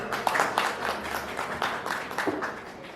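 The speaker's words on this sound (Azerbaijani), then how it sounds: "Bu xanımı da böyük alqışla alqışlayaq" An audience applauds a woman at a sponsored stage event: a brisk patter of many hands clapping, loud and close, with uneven claps running throughout.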